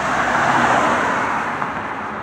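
Passing cars on a busy road make a loud, continuous roar of traffic noise that swells and eases slightly as vehicles go by, with no talking.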